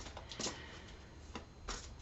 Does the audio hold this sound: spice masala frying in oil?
no